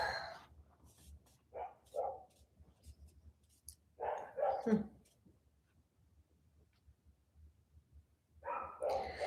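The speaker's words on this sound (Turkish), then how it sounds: "Ya çok fazla köpek havlıyor burada ya" A few dogs bark in short bursts at a distance, fairly faint, with quiet stretches between and a person talking nearby.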